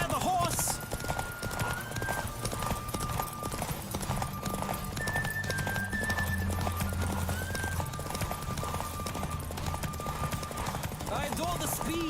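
A horse gallops fast across open ground in The Witcher 3: Wild Hunt, with a steady, driving run of hoofbeats under game music and rushing wind, and brief neighs.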